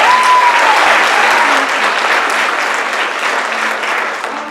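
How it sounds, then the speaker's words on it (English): Dense, loud applause from an audience at the Tybbies award ceremony, steady clapping that gradually tapers slightly, with a brief tonal squeal at the start. "just give him a round of applause"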